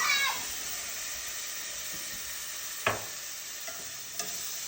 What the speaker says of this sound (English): A little cooking wine to deglaze that butter, get all that flavor from the bottom of the pot.